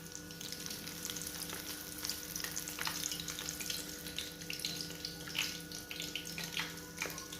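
Coated sardines fry in hot oil, a bright, busy crackling sizzle with rapid popping bursts that stays constant and close, no talking.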